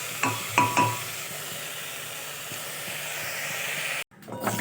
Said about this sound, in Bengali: এবার আমি চিকেনটা ভালোভাবে কিছুক্ষণ কষিয়ে নেব